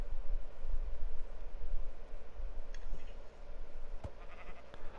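Sheep bleating in a farming video game, a few short calls rising over a steady background hum with faint clicks near the end.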